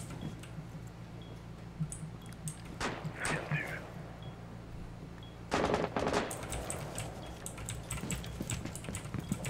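Bursts of rapid gunfire from the video game Rainbow Six Siege, a short volley early and a longer, louder burst later, over a low steady hum.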